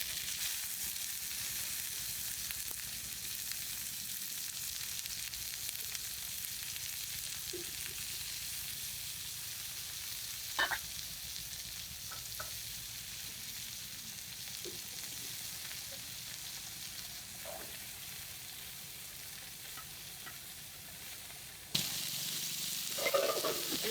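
Fish wrapped in bottle gourd leaves fries in an oiled wok, giving a soft, steady sizzling hiss with a few light clicks and scrapes.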